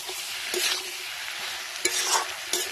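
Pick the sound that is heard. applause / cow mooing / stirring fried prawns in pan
stirring fried prawns in pan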